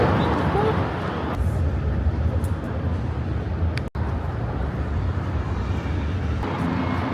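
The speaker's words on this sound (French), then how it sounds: "il y a des hélicoptères qui décollent" A steady, loud roar of helicopters taking off in New York fills the whole stretch, broad and unbroken, with a brief dropout in the middle.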